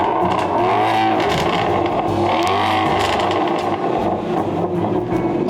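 A loud, high-revving 2016 Shelby GT350 Voodoo V8 engine with an 8250 RPM redline roars continuously, climbing and dropping through revs with a deep, raspy growl close by.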